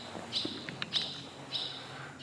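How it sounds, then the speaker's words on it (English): Barn swallows calling inside Malheur Cave, a few thin high chirps and short twitters echoing faintly at a distance against a quiet, hollow background. "barn swallow."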